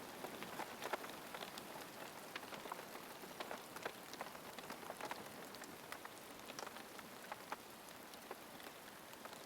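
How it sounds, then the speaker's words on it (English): Soft, continuous rain patters on a thick thatch roof, a dense, even drumming of drops with scattered brighter taps, no voices. "It was a gentle percussion on the thick thatch roof."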